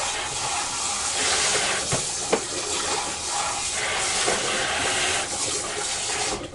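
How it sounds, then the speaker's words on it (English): Running water pours steadily from a tap while something greasy is rinsed out, a loud continuous hiss with a few faint clinks partway through. "I'm going to rinse this out"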